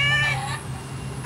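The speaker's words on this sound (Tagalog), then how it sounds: "May pusa pa dito mga kabusin, nakipaglaro." A cat meows once, close and fairly clear, against a quiet outdoor background by a rice field.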